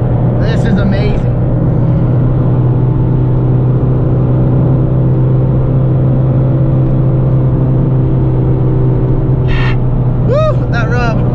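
Honda Civic EG hatchback driving, a steady engine drone with strong low harmonics running continuously and fairly loud throughout, with brief higher squeaks or chirps near the start and end.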